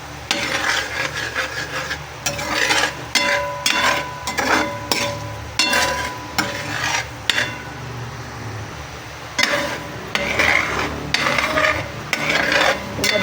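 Coconut milk reduces in a pan into latik as its oil renders out, while a utensil repeatedly scrapes and stirs in uneven, close strokes over a faint background sizzle, with no talk.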